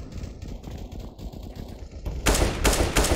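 Rapid automatic gunfire in Counter-Strike: Global Offensive, a dense burst of loud shots that starts partway through after a stretch of quieter game noise, firing in quick repeated volleys.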